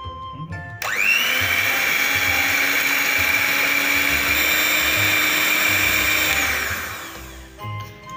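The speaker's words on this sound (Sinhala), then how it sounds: "මම බීටර් එකෙන් තමයි බීට් කරගන්නේ" An electric beater whirs loudly in a bowl of eggs for watalappan, starting abruptly after a brief clatter, holding a steady high motor whine for several seconds, then winding down and stopping near the end.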